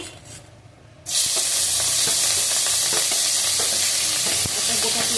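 Chopped onion dropped into hot oil bursts into a loud, sudden sizzle that holds steady and close for several seconds after a brief quiet start.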